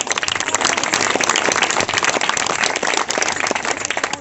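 Clapping from an audience at a Christmas church meeting, a dense crackling patter of many hands close by, steady and uneven with sharper slaps scattered through, no voices over it.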